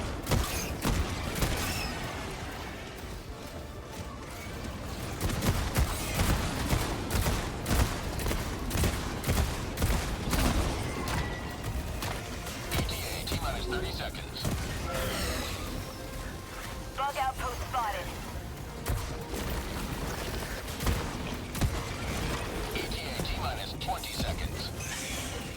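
Rapid autocannon fire from the EXO-49 Emancipator mech in Helldivers 2 blasting bug nests, a dense continuous barrage of booming shots and crashes with mechanical creaks, under steady voice-over talk.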